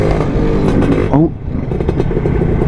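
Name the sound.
Lambretta two-stroke scooter engine sputtering from fuel starvation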